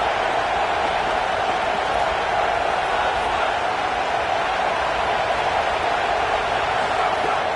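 A stadium crowd roars in a college football video game, Colorado against Clemson, as the home fans try to pin the offense deep in its own end. A steady, dense wash of crowd noise holds at a moderate level throughout.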